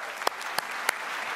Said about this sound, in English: that's worth another round of applause right there